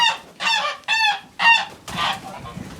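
Mast geese honk loudly and close on a farm, three nasal calls in a row followed by a rougher, noisier squawk.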